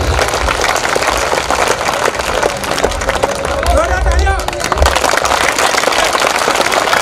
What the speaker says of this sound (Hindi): श्रीमान ताली बजाओ हमारे शेर जी के लिए